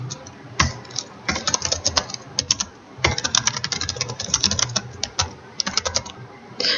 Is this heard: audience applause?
no